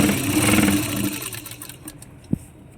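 Sewing machine running a straight stitch on a Rajasthani kanchli blouse, a close steady whir that slows and fades out, ending with a single sharp click.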